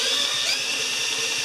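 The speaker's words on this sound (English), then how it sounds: "I'm going to spin the drill and I should see a spark" A power drill spins a Honda HRA214 lawn mower engine with a steady high-pitched whine that holds evenly and runs alone at moderate volume.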